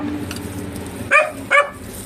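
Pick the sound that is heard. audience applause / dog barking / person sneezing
dog barking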